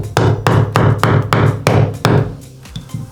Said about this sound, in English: and then you give them a tap with your hammer,